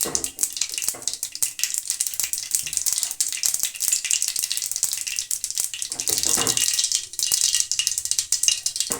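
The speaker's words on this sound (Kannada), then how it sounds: "ಸಾಸು ಚೆನ್ನಾಗಿ ಸಿಡಿದಿದೆ" Mustard seeds and cumin splutter in hot oil for tempering, producing dense, loud crackling and sharp pops close by, with a continuous sizzle underneath.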